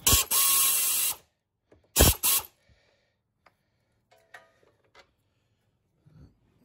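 Ratchet whirring in quick bursts while undoing screws on a Polaris Sportsman Touring ATV during a CVT belt change: two loud, close runs of clicking, then faint scattered taps and clinks in a quiet garage.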